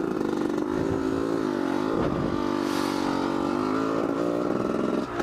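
Motocross bike on a dirt track holding a steady throttle toward a jump table, its engine droning loud and close with a slight rise and fall in pitch throughout.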